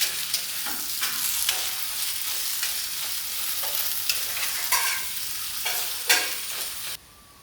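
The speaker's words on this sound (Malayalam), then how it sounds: "പിന്നെ വെളുത്തുള്ളി എല്ലാം കൂടി ഒന്ന് ചേർത്ത് ഇനി ഒന്ന് ഇളക്കി കൊടുക്കാം." Potato pieces and garlic sizzle steadily in a hot pan while a spoon stirs them with irregular scraping knocks, close and alone with no talk.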